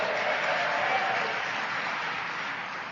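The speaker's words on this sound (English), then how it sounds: "Drinking got a round of applause?" An audience at an Alcoholics Anonymous speaker meeting claps in a dense, steady wash that stays fairly loud throughout and eases slightly toward the end, with no voices over it.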